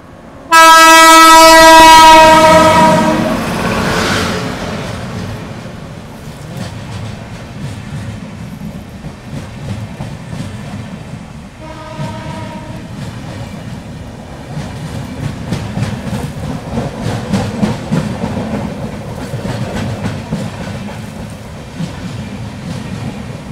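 The Mandovi Express at a crossing stop at Karmali on the Konkan line: a loud, close train horn blares at the start and fades into a rolling rumble of passing coaches, with a second, shorter horn call midway.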